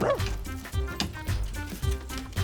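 A dog barks close by in several quick, yappy bursts with whimpering yips mixed in, repeating steadily and loud throughout.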